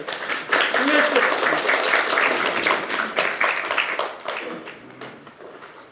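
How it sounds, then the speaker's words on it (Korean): A crowd applauds at the launch ceremony of the Justice Party's central election committee, a loud, full patter of clapping that fades toward the end, with a voice faintly mixed in. "큰 박수로 영원히"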